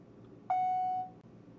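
A single electronic beep sound effect, a clean steady tone lasting about half a second before fading out, heard alone against a quiet background.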